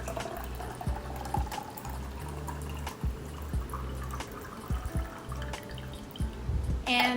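Coffee poured into a glass jar for homemade iced coffee, a steady liquid pour with faint trickling and a few soft clinks, close and moderately quiet.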